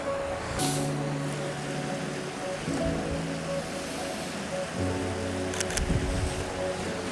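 Wind blowing outdoors on an icy day in the Peak District: a steady, gusting roar with a faint low hum running through it, heard alone with no voices.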